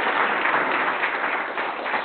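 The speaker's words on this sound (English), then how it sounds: "Round of applause." A meetup audience claps for a speaker, giving a brief, dense burst of applause that fills the room evenly and fades slightly toward the end.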